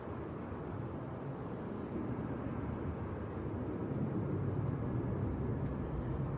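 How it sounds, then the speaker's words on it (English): An EasyJet airliner from Munich on short final approach in gusty crosswinds produces a steady, low broadband roar that swells slightly toward the end, heard alone at moderate distance. "Aircraft on short finals, Tom. Should be EasyJet from Munich."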